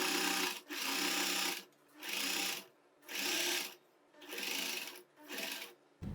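A sewing machine stitches a side pocket onto a churidar in five loud, steady runs of roughly a second each, separated by short pauses, with no talking.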